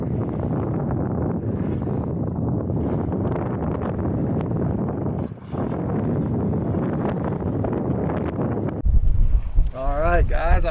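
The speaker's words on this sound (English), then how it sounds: "I finally got some wind." Strong, steady wind roars over a solo sailboat at sea, a dense rushing hiss with gusts, and a voice speaking briefly at the end.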